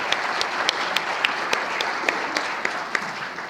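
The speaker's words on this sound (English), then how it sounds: "let's give Jim a round of applause for that incredible accomplishment" An academic lecture audience applauds a researcher's election to the National Academy of Sciences, producing a steady, fairly loud wash of clapping with sharp individual claps standing out throughout.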